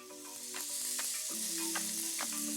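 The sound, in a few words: halloumi sizzling in an oiled pan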